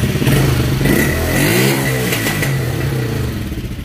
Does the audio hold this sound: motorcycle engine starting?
yes